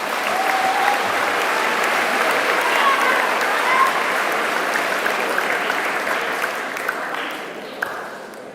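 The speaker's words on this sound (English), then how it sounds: "Let's give him a round of applause." Audience at an 8th grade graduation ceremony giving a student a round of applause, sustained clapping that gradually fades toward the end, with a few brief tones cutting through.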